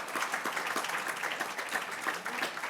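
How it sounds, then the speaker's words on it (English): An audience at a conference applauds panelists, a steady wash of many hands clapping at moderate volume that continues without a break. "Let's give them a round of applause just for making it here."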